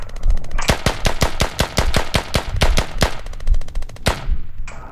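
Rapid automatic gunfire in the tactical shooter Squad, a burst of about a dozen sharp, loud shots in a steady rhythm followed by one more single shot, with no talking over it.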